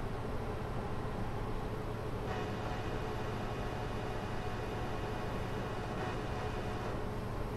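A short three-car NJ Transit commuter train passes in a train simulator game on the North Jersey Coast Line, a steady loud rumble and rolling rail noise with a faint shift partway through, no talk.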